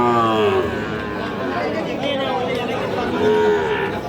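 A cow lows at a livestock market over steady crowd chatter and people talking nearby in a busy, noisy open-air setting.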